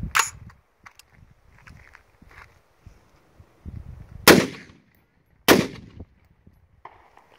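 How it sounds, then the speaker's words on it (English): A suppressed PDW Honey Badger pistol with a Franklin Armory binary trigger fires three sharp, loud reports in semi-auto, one early and two spaced about a second apart later, with quiet handling noises between them. "Fire a couple of rounds in semi-auto."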